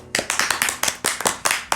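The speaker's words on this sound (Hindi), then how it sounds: "ताली बजाओ" A live audience claps along in a fast, even rhythm of sharp claps, close and loud, continuing for about two seconds with no talk over it.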